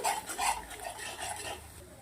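Gram flour already roasted in ghee is stirred around a pan with a spoon, giving soft repeated scraping and rubbing strokes, close and fairly quiet, with no talking.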